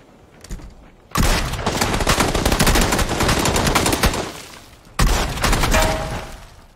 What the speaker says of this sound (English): I was shooting from up the hill.